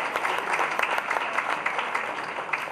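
Audience applause at a Tamil political speech event, a steady dense patter of many hands clapping throughout, fairly close and continuous with no talk over it.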